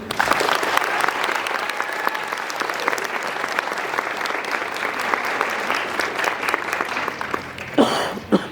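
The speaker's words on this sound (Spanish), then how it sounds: "para quien pido un caluroso aplauso" Warm audience applause after a keynote lecture at an 87th anniversary event, sustained steady clapping from a large crowd for several seconds, with a brief cough or throat clearing near the end.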